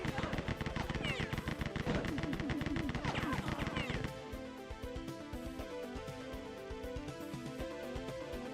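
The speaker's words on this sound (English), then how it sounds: "Where are you guys shooting me from?" Rapid bursts of video game gunfire crackle in dense volleys in the first half, then give way to steadier game sound effects; a voice talks over it.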